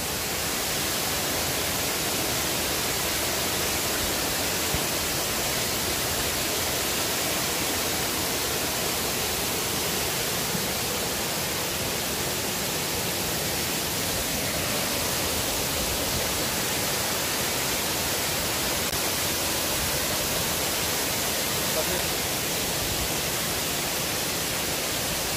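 A mountain waterfall roars as a dense, steady rush of falling water, loud and unbroken from start to finish with no voices.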